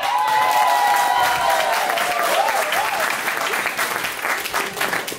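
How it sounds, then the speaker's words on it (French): Guests at a wedding ceremony burst into sustained applause, a dense wash of many hands clapping that starts strong and gradually thins out, with faint voices mixed in. "c'est ça qu'on est supposé applaudir plus fort"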